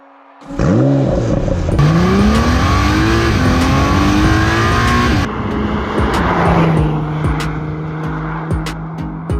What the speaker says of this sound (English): I think it's about time we hit that starter button and went and chased some tarmac.